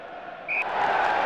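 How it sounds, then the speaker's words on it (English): Stadium crowd in the PS1 rugby game Jonah Lomu Rugby reacting to a dangerous tackle, a steady broad roar that swells partway through and stays loud for the short moment. "Well, the crowd didn't like that."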